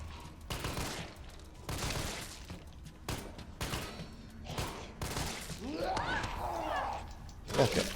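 Acid rounds fired from a launcher in Resident Evil 3 Remake, a series of heavy, punchy shots spaced roughly a second apart, with splashing, hissing impacts and low game rumble between them.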